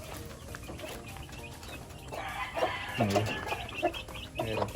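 Several gamefowl chickens, including a Cardinal Kelso, cluck and squawk close by in short bursts in a backyard, with faint background voices and farmyard noise.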